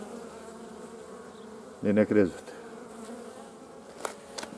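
Honey bees buzz at a hive while being fed crystallized honey and pollen under double foil, a steady low hum throughout with a brief voice cutting in near the middle.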